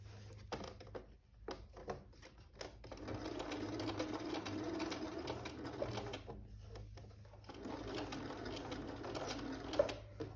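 A sewing machine runs a long, steady stitching line along a cushion seam, with brief pauses. The whirring stays soft and close, a faint voice is heard now and then, and there are small clicks.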